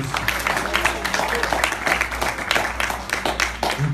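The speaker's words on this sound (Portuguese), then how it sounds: "Aplauda ao Senhor por isso." A church congregation applauds, with scattered rhythmic clapping filling the room while voices carry underneath, moderately loud and continuous.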